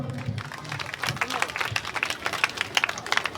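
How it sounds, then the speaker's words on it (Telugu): Wedding guests break into applause for the newly married couple, with a crowd of hands clapping in a dense, rising burst that grows louder toward the end. "అందరూ చప్పట్లు కొట్టండి"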